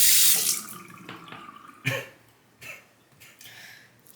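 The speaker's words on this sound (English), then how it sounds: "I'm gonna wet the blade." Tap water runs briefly at a sink to wet a straight razor blade before honing, with a loud rushing splash at first that fades into a few softer splashes and clinks.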